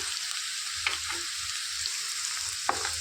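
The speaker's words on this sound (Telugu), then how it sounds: "ఇందులోనికి సన్నగా తరిగి పెట్టుకున్న ఆనియన్స్ వేసుకొని వేయించుకోవాలి" Finely chopped onions and green chillies fry in a pan, a steady hiss of oil sizzling throughout with a couple of brief sharp clinks or stirring knocks standing out.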